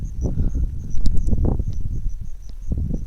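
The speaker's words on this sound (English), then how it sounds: "I've not noticed that there are crickets which are making sounds." Crickets chirp in short, regular pulses at a steady moderate level, over a rumbling background of low noise and scattered clicks.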